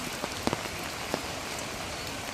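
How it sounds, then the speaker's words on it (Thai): Steady rain hissing down across the whole stretch, with a few distinct drops tapping close by on a hard surface. "วันนี้ บ้านผมฝนตกนะครับ"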